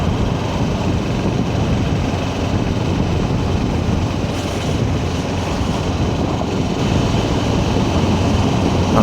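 Kawasaki KLE500 SE motorcycle, a 500cc twin, pulling from low revs while being ridden: a steady, loud engine drone with rushing wind noise throughout, no speech.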